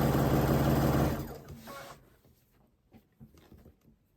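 Sewing machine stitching a quarter-inch seam on a crumb quilt block, running loud and steady for about a second before slowing and stopping, followed by faint handling clicks and rustles.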